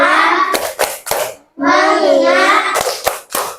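Children clap sharply in a classroom focus-clap routine, several quick claps separated by bursts of loud group chanting.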